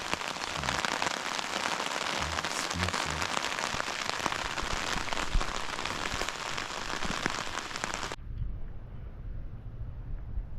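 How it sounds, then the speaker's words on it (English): Heavy rain pours down steadily in a dense, hissing wash during a deer hunting trip, then cuts off abruptly, leaving only a low background hum. "It's raining pretty good."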